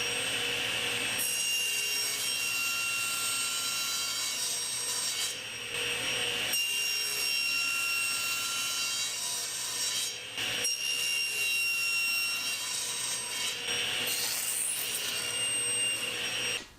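Saw cutting through wood on a sled, three long rasping strokes separated by brief pauses, close and fairly loud with no voices.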